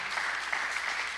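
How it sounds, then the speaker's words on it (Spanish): A church congregation claps together in a brief burst of dense, continuous applause with no one speaking. "Yo creo que podría aplaudir mejor"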